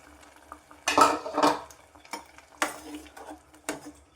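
A spoon clinks and scrapes against a metal pot while stirring boiled green peas with their cooking water, several uneven strokes, close by, with quiet gaps between stirs.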